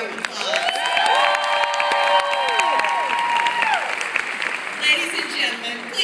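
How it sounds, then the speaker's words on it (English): Conference audience applauding at a Mary Kay career event, a broad steady wash of clapping lasting several seconds, with tonal whoops and cheering voices sliding over it. "That deserves a round of applause."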